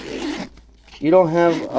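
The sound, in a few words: zippers on canvas motorcycle saddlebags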